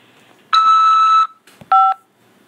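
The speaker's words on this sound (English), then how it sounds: "After the beep, press 5 to accept this call." A single telephone beep tone on a prison collect-call line from a corrections facility, sounding as two clean electronic beeps: a longer steady tone followed by a shorter one after a brief gap, close and clear with no talking.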